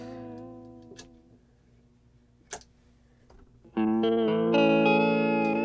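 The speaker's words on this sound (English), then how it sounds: "So that's that sound of that crinkling tape." Chase Bliss Lost + Found pedal's tape failure effect on guitar: sparse crackling ticks over sustained notes, then a loud, dense chord swells in, crinkly and warbling, with no talking.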